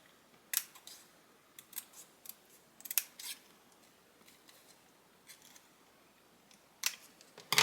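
Scissors snip through paper in a home craft setting, a string of sharp, close cuts in irregular bursts separated by quiet pauses, with a louder flurry of snips at the end.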